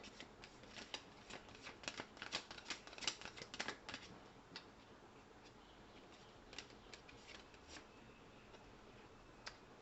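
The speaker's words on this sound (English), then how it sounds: "Let me get some more cards here." Tarot cards being drawn and shuffled during a reading, a rapid run of crisp papery flicks and snaps, close and fairly quiet, thickest early on and then trailing off into sparse single card slaps.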